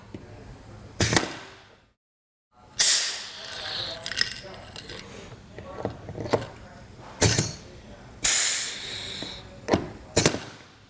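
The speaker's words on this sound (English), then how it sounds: "The final step is to get your rivet gun, and there you go." A rivet gun sets rivets on a Rhino-Rack Vortex roof rack bracket, giving a handful of sharp metallic snaps and clicks spread over several seconds, with handling noise between them.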